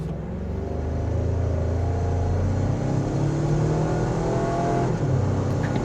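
A 2025 Toyota 4Runner Trailhunter V6, floored in sport mode, roars under full-throttle acceleration, its engine note rising steadily and loudly from inside the cabin with a constant deep rumble.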